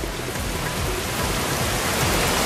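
Heavy rain roars continuously over low-lying forest ground in Gir, a dense, loud, unbroken wash of water with no voices.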